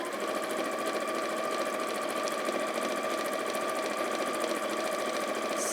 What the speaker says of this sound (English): I'm just going to sew along the same stitch line